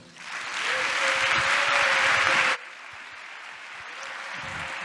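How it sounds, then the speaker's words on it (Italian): Warm audience applause at a science-and-art conference in Switzerland greets Professor Stefano Mancuso, a dense, loud wash of clapping that swells and holds, then drops abruptly to quieter room ambience. "lo accogliamo con un grandissimo applauso, il professor Stefano Mancuso"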